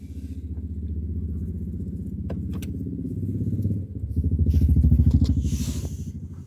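A Tata Altroz car engine idles after a push-button start, a steady low throbbing hum that swells in a rev midway and carries on close and loud.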